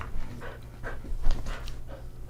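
A dog lying upside down pants in quick, steady breaths, with a soft whimper breaking in now and then, heard close and alone.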